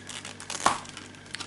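Sealed Kang the Conqueror scenario pack for the Marvel Champions card game being torn open: a short crinkle of plastic wrap with a single sharp rip near the middle, close and fairly quiet.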